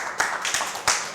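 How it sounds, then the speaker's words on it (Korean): Elementary school children clapping at a science lecture, a short burst of scattered hand claps with a few sharper peaks, fairly close and lively. "우리 초등학생 박수"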